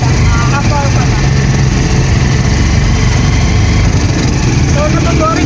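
A car engine idles in a steady, unbroken low rumble with an even mechanical drone, while people talk over it.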